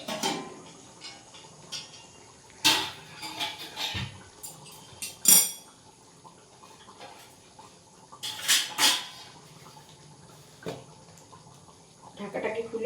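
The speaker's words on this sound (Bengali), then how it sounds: "আমি এবার ঢাকাটাকে খুলে নিচ্ছি" A metal lid comes off a cooking pot of vegetarian masala paneer, giving a few sharp, close clanks of metal spread across a quiet kitchen background.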